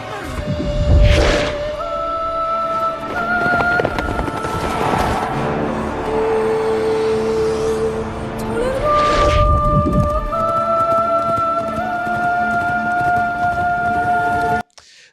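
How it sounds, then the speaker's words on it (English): A boy soprano singing long held, piercing high notes in an orchestral film score, with sustained tones stepping between pitches over a full, loud orchestral backing. "he brings us that boy soprano sound, that piercing sound to represent the light"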